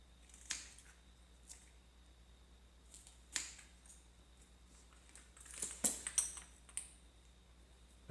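Excess material cut off while fitting a Quickjack, a handful of sharp, scattered snips and clicks spaced irregularly over near silence, with a quick cluster toward the end.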